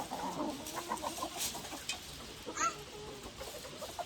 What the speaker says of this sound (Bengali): এখানে দেখুন সব লড়াইয়ের মুরগি